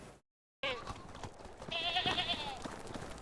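Goats and sheep in the Medieval Dynasty video game bleat in a wavering, nasal cry that rises and holds for about a second, with farmyard ambience and someone talking around it.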